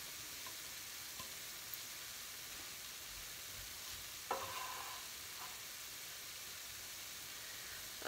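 Onion added to browned ground beef sizzles in a hot pan as a constant, fairly quiet hiss, with a few soft scraping stirs and a brief clatter partway through, no talking.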